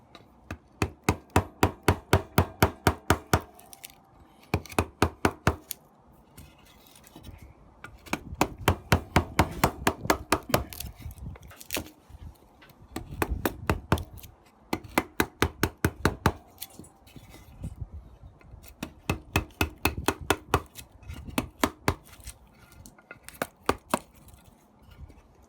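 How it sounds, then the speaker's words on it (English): Chisel driven into wood while carving out a canoe bowl, steady runs of sharp rhythmic knocks in bursts of several blows with short pauses, close and clear with no talking. "I can actually move the chisel backwards, just so that I don't go straight into the bottom here."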